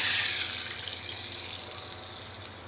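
Hot oil poured from a ladle over raw marinating chicken pieces for chicken kosha, a steady close hiss and sizzle that fades slightly, with no talk.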